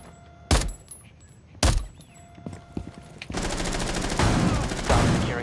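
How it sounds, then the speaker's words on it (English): Gunfire in Rainbow Six Siege: two sharp, loud single shots, then a sustained rapid burst of automatic fire close by. "No, I got shot."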